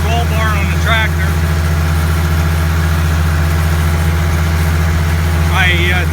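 A tractor engine idles steadily throughout, a loud, constant low rumble with a fixed hum, while someone talks over it at the start and end of the short stretch.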